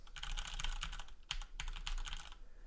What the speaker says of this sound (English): And let's do a typing test.